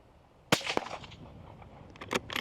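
A single gunshot hits a mounted Atlas shooting target, one sharp crack followed by a quick ringing tail and a few fainter knocks and rustles close by.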